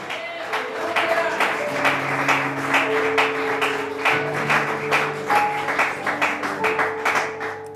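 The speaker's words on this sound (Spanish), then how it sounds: "¿Cuántos le dan un aplauso al Rey de Gloria?" Church congregation applauding during a sermon, a dense run of steady clapping mixed with sustained instrumental tones underneath.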